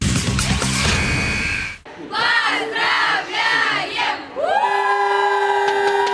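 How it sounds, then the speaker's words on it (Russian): A crowd of young sports-school pupils greets a swimmer at an airport with loud cheering and shouts. Several swelling bursts of chanting voices follow a noisy opening and give way to a sustained high tone. "Овациями в аэропорту Курумыч тольяттинские спортшкольники встречают своего кумира"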